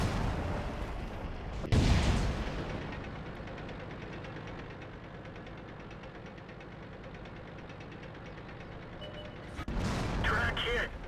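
An artillery shell strikes a Dicker Max tank in World of Tanks: a loud impact boom, then a long steady engine rumble, with another sharp hit and crackling near the end.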